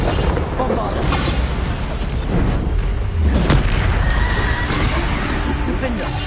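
Repeated Bombarda spell blasts in the Hogwarts Legacy video game: dense, booming explosions with crashing debris that keep overlapping, loud and continuous with no quiet gaps.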